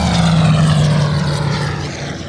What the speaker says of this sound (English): one of the German planes comes shooting at them with machine guns